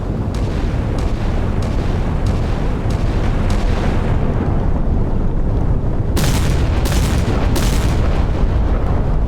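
Naval gunfire and explosions from a frigate battle in the Sea Power naval combat game, a dense continuous rumble of booming blasts and cannon fire with several sharper bursts near the end.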